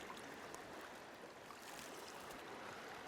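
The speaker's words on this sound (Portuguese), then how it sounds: "a água que brota de dentro da terra e vai indo, olha, na direção do Mar Morto" Spring water welling up from the ground and flowing toward the Dead Sea, a steady broadband rush and trickle of moving water heard close and continuous without pause.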